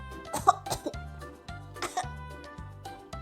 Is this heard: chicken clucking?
no